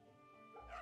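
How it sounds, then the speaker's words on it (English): In the Fate/Samurai Remnant video game, a dog being petted gives a faint, brief whimpering yip at the end of a quiet moment. "Let me pet the dog."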